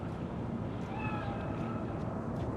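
A cat meows briefly in the Cyberpunk 2077 video game, a short rising call heard over a dense, loud bed of game ambience and low rumble.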